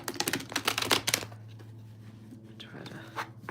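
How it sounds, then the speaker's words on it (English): Tarot cards are shuffled by hand in soft, rapid riffling bursts, loudest at first and then thinning to scattered flicks. A faint voice is heard in the background. "Try to shuffle them backwards, bend them back a little bit."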